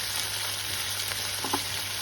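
Bitter gourd curry frying in a pan with a steady close sizzle and a few soft stirring scrapes near the end, no talking.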